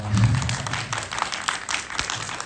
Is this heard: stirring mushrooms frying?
no